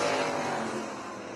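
Race cars roar around a speedway during a B-main event, a loud, dense engine drone that stays steady and eases off slightly toward the end.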